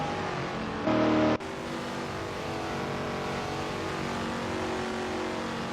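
AI-controlled supercars racing on an Indy oval in a racing video game give a steady, sustained engine roar with a brief tonal burst early on and no voices.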